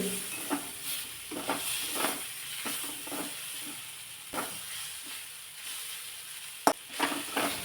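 Eggplant curry base with gram flour sautéing in a pan, a steady quiet sizzle broken by soft scraping stirs at irregular intervals and one sharp clink near the end.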